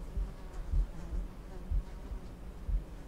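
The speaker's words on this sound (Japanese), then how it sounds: "こんな虫の羽音がうるさいところで寝れないよ。" Insect wings buzz steadily in a video game, a low droning hum that pulses roughly twice a second, close and fairly loud, with no speech over it.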